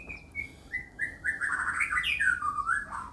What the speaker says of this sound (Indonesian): Nih jadi ada 3 burung, tiap harinya sama ya, cuman beda kamar aja